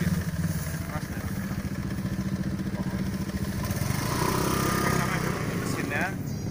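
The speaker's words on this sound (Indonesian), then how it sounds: "Motor berbahan bakar bensin campur 2 tak. Yang nanti akan kita coba." A Matsumoto MOB-830G 3 HP two-stroke petrol outboard motor runs steadily at close range, a buzzing, even drone that holds throughout, with people talking over it.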